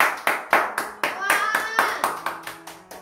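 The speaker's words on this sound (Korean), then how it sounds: "박수 한 번." Several hand claps in a quick, uneven series, close and fairly loud, with people talking over them, after a hair-makeover reveal.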